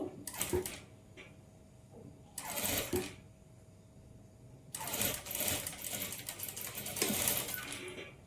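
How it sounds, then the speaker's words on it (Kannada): A sewing machine stitches a boat neck blouse in several whirring runs of varying length, the first ones short and later ones longer, close and clear with brief quiet pauses between them. "ಇದ್ರ ಮೇಲೇ ಸ್ಟಿಚ್ ಹಾಕ್ಕೊಳ್ತಾ ಬರಬೇಕು"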